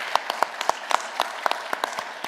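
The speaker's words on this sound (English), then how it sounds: "How about a huge round of applause for her?" Audience at a college business innovation competition giving a short burst of applause, a thin scattering of individual claps with distinct sharp hits, moderately distant and fairly faint.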